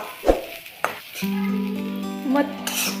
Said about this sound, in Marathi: मसाला आपला चांगला भाजलाय